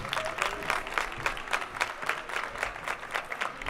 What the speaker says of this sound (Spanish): Un aplauso, ¿no?